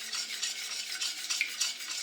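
A spoon stirs a cornstarch and condensed milk cream mixture in a bowl, giving quick, rhythmic scraping and swishing strokes, close and fairly quiet, with no voices.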